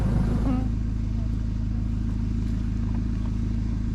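Overlanding vehicle engine idling steadily in a low, constant drone while towing another car, with faint clatter over the rumble.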